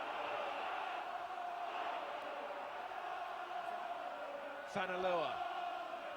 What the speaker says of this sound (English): Home crowd really responding to the efforts of their team here.